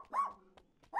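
A dog gives two short, quiet barks about a second apart, with little else around them.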